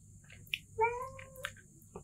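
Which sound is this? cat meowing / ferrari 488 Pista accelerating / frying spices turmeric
cat meowing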